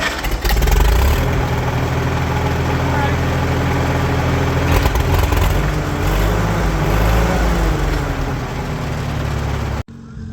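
A Farmall H tractor engine idles steadily while warming up, with a loud, continuous low rumble and throb that runs almost unbroken and cuts off abruptly near the end.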